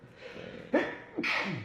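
A single sharp sneeze, preceded by a quick inhaling gasp, close and loud with nobody talking.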